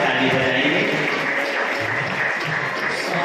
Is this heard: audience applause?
yes